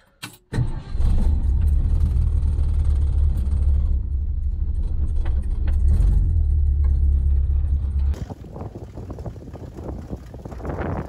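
A Ford Ranchero engine starts and idles with a leaking exhaust donut, a loud, rough, steady low rumble close by that runs for several seconds, then gives way to wind-buffeted noise and scattered clatter.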